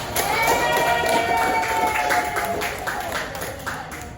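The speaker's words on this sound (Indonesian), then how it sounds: "beri aplaus dulu dong" Classroom applause during a lesson, a steady patter of many hands clapping together for several seconds, fairly close and fading slightly toward the end.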